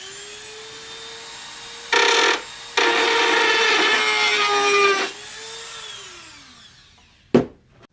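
A flint rod for DIY spark gloves being cut with a Dremel-type rotary tool: two harsh grinding bursts, one brief and one lasting about two seconds, over a whining motor that spins down, then a sharp clack.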